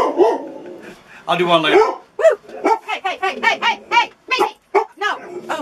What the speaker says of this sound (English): Whenever we turn the camera out to film, the dog barks.